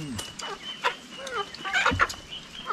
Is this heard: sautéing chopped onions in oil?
no